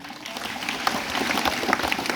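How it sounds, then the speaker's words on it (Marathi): Audience applause for a minister at a village gathering marking Dr. Babasaheb Ambedkar's birth anniversary, a steady spread of hand clapping that stays even throughout with a few louder claps standing out. "मंत्री अण्णासाठी टाळ्या वाजवा एकदा आपण"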